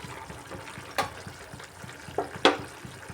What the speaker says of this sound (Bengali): আর একটু জল দিয়ে দিচ্ছি যেহেতু সিদ্ধ হবে।